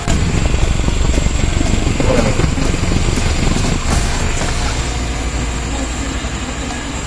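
A warmed-up 4AFE fuel-injected engine in a van idles with a steady, loud mechanical rumble and rattle that eases slightly toward the end, no voices.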